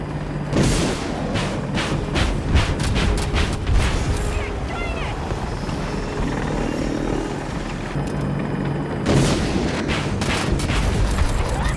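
Apache attack helicopter in Battlefield 2042 firing 127mm cannon and TOW missiles, with a steady rotor drone throughout, repeated sharp launch blasts in quick bursts near the start and a fresh volley near the end.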